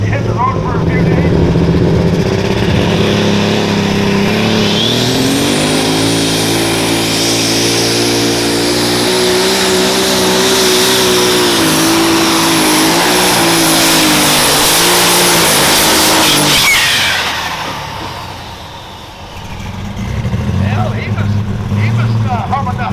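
A light super stock pulling tractor at a tractor pull in Freeport, Illinois roars loudly and close, its engine pitch climbing and holding under strain before cutting off abruptly, then idling lower near the end.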